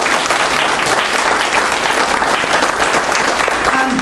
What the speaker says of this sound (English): So if you would like to now applaud our wonderful candidates